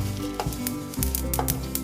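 Fennel seeds dry roast in a pan over low heat, giving a soft, even sizzle broken by scattered small crackles and taps.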